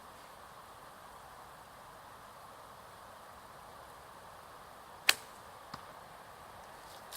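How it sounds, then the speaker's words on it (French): Arrows clatter against each other in an archery target during a test of a three-strand Dacron bowstring, giving two sharp, brief clacks close together against faint outdoor hiss. "Le seul bruit qu'on entend, c'est les flèches qui s'entrechoquent."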